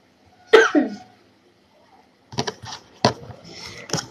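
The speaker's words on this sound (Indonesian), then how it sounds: "Maaf ya guys kalau agak batuk karena masih recovery." A sharp cough from someone still recovering from illness rings out, then after a pause a run of several quick, harsh coughs close by.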